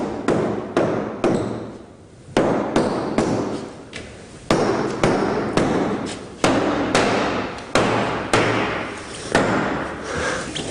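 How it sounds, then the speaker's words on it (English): A hammer strikes a twisted log repeatedly to knock it along, about two dozen sharp thuds in an uneven rhythm, each loud nearby with a ringing decay and a brief scrape between some blows. "can you get your hammer actually, and we'll knock it along from that end towards this"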